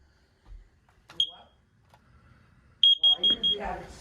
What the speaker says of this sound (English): I'm gonna do a carbon monoxide alarm test,